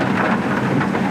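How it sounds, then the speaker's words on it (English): Brief burst of heavy rain at the Biamiti Causeway in Kruger National Park during a storm, a thick, constant rushing hiss of falling water, loud and near, with no one speaking. "Heavy water falling."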